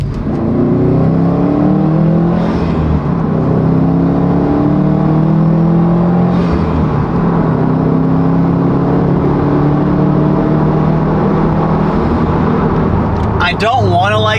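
A Subaru STI engine warming up, its steady loud idle drone holding throughout with tonal whine bands, close to the car. Near the end a brief rustle or handling noise breaks in.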